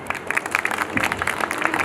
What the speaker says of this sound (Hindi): जोरदार तालियों के साथ स्वागत कीजिए हमारे श्री सतीश वर्मा जी का